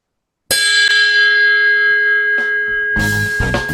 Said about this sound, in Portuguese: e batendo o sino, né?